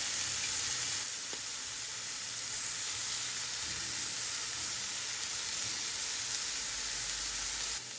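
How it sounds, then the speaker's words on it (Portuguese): Chicken pieces fry steadily in a pan, a continuous close hissing sizzle with a faint scrape of stirring early on, no voices. "E vou fritar aqui a minha última remessa de frango."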